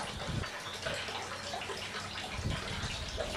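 Sewage water from a leak trickles and seeps outdoors in a park in Kolomyia, Ukraine, a soft continuous wet patter with faint splashes that stays steady for several seconds and has no voices.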